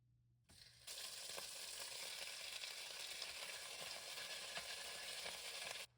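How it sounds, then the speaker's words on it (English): Stew beef browning in a pot gives a steady, loud sizzle that starts abruptly after a brief quiet moment and keeps up evenly to the end, with occasional small pops and stirring scrapes. Nobody speaks. "I have some beef that's meant for stews to add to the pot first to get some browning and flavor bits on it"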